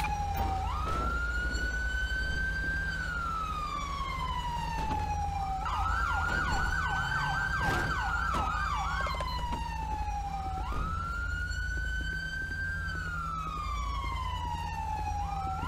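A wailing ambulance siren in the game GTA V, sweeping up and down in long cycles with a faster yelp in the middle, loud and steady over a low engine hum.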